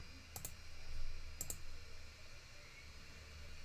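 Quiet mouse clicks on a computer: two quick double clicks about a second apart and a faint one at the end, over a low steady room hum.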